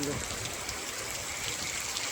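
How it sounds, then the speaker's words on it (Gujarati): Steady heavy rain and rushing floodwater from a swollen river pour down without a break, a broad hissing wash at moderate distance. "હજી વરસાદ ચાલુ છે"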